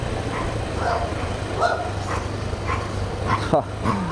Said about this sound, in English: Big dog versus little dog.